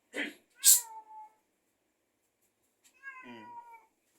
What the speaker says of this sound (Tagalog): Magulo yung pusa eh.